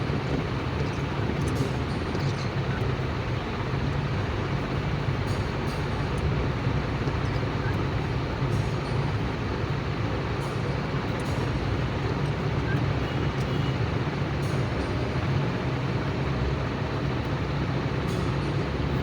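Car driving steadily in fourth gear at about forty during a driving lesson, with a continuous, even drone of engine and road noise close by through the whole stretch.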